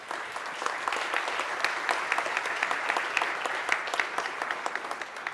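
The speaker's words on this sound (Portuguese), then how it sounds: "palmas para vocês" A conference panel audience claps steadily, a dense, even wash of many hands that holds at the same level for several seconds, with faint voices underneath.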